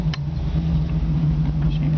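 The engine of a 1967 Ford Mustang runs close by with a loud, steady low rumble and an even idle hum, with no other sound over it.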